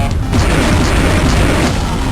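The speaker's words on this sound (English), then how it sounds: "Homing missiles." Homing missile explosions in the Game Boy Advance game Turok: Evolution, a dense, continuous rumble of booming blasts that stays loud for the whole span with no talk over it.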